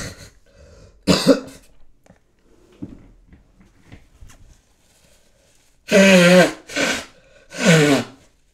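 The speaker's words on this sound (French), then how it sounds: "je vais pas cut quand je vais moucher et tousser" Several loud coughs and a nose-blowing burst from one person nearby, with a short blast near the start and three heavy bursts close together toward the end, separated by quiet.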